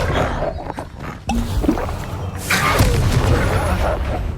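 Confringo fire spell in the Hogwarts Legacy video game, bursting into a loud, roaring explosion with rumbling thuds and creature-like roars, overlapping a shouted voice in a chaotic battle.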